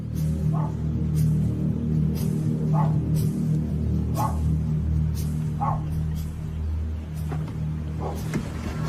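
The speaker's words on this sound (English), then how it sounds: "Although a dog is barking, nobody comes to the door." A small chihuahua barks from inside a house, heard as a few short muffled yaps spaced a second or two apart, faint and distant behind a steady low hum.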